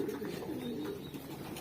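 Meat pigeons coo in low, rolling throaty calls while being fed. The birds are close, with a faint background hum and no talking.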